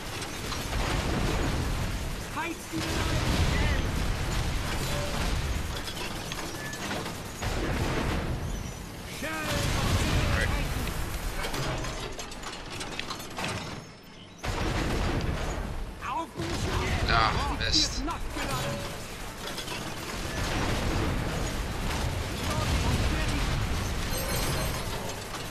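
Gunfire and artillery blasting at a tank in the video game Toy Soldiers: War Chest, a dense continuous barrage of booms, bursts and mechanical clatter, loud throughout with a short dip midway.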